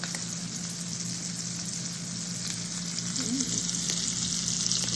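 Steaks frying in a pan give a steady, dense sizzle throughout, loud and close, with occasional light crackles and no talking.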